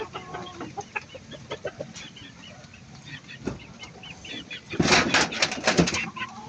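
Gilmore Hatch gamefowl hens in a coop, with scattered soft clucks and rustling, then a louder burst of close clucking and squawks near the end.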